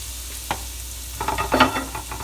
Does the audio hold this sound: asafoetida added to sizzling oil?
yes